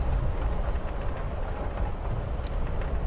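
Inside a train car in the game Life is Strange: Before the Storm, a constant low rumble of wheels on rails fills the space, with faint rattles and a brief high squeak near the end, no talking.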